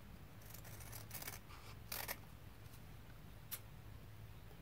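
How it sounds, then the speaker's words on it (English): Scissors snip through quilt fabric, cutting out pieces for a stained glass flower puzzle art quilt: a few crisp, close cuts in a quiet room with no talking. "And now we can cut these pieces out."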